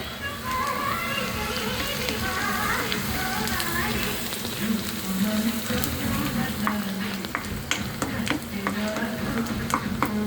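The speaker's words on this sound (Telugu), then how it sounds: "ఇది ఈ పేస్ట్ని ఒక స్పూన్ అయితే దీనిలో వేసి ఫ్రై చేస్తున్నానండి" Ginger garlic paste and cumin frying with mutton for mutton doskaya curry, a steady close sizzle with stirring scrapes and clinks running throughout at an even level.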